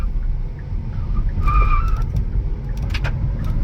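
A 2022 Kia Niro EX EV in sport mode accelerates hard from a standstill to 40 mph on a frontage road, giving a steady close rumble of road and tire noise with a faint rising electric whine partway through.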